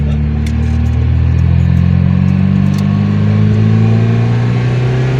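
A Fiat X1/9 sports car engine rumbles deep, steady and loud close by for the whole stretch, holding a throaty idle-like tone with a slight rise in revs.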